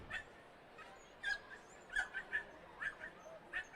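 Dachshund at a wiener dog race at Canterbury Park, barking and whimpering in short yips and whines, several bursts spread across the clip at moderate distance.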